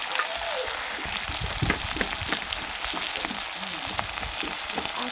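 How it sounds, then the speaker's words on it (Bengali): Chicken fries in a pan with cumin, ginger paste and garlic paste, giving a steady, close sizzle with occasional crackles and pops and no talking. "1 চামচ রসুন বাটা দিয়ে ভালো করে ভেজে নেব।"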